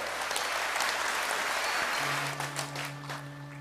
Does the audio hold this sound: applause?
yes